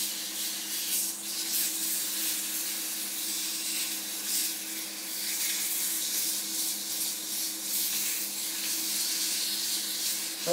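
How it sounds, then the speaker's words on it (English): Sandpaper rubs steadily against a milk pear wood candlestick base during woodturning, a continuous abrasive hiss that stays even and fairly loud for about ten seconds, with no talking. "Give it a nice sanding."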